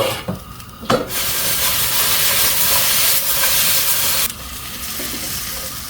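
Doenjang sauce hitting a hot pan in a home kitchen, a loud broadband sizzle and hiss that surges after a brief clatter and holds steady for several seconds, then drops slightly but keeps frying.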